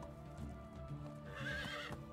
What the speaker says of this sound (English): Oh, it's the horses!